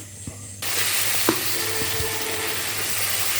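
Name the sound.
fish frying in a pan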